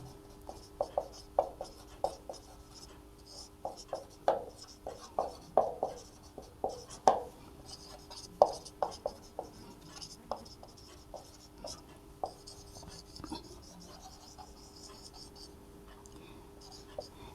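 Chalk or marker on a classroom board while a teacher writes sets of real numbers for a class 12 maths exercise: a steady run of short scratchy strokes in bursts, close and moderately quiet, with a faint steady hum beneath.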